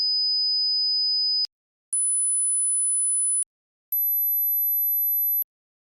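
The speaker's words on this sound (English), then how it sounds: "3 tones were played in different frequencies." Three steady pure test tones from a hearing test, each about one and a half seconds long and separated by short gaps, every tone pitched higher than the one before, sounding clean and alone.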